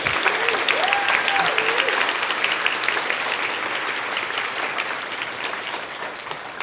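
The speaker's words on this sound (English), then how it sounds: "can we just do one more round of applause for these folks?" An audience at a convening event breaks into sustained applause, with steady, dense clapping that stays loud throughout and a brief whistle near the start.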